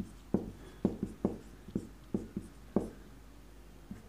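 Chalk or pen writing out a surds calculation by hand, a run of sharp scratchy taps and strokes in an irregular rhythm, close and fairly quiet, with no talking over them.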